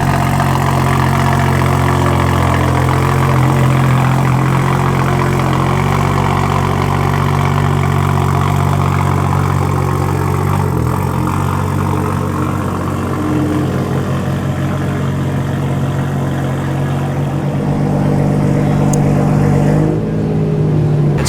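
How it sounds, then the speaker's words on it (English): Toyota Supra race car engine idling loudly and steadily at Circuit of the Americas during a time-attack event, a close, deep, constant rumble that holds for over twenty seconds without talk. "Jackie said that today for his Supra, he's going to be going out on map 4 right away"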